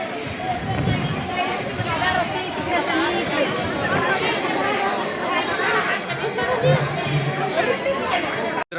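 Dense crowd chatter fills a busy temple of Sopan Maharaj during the Wari pilgrimage, many overlapping voices in a continuous, close babble with no pauses.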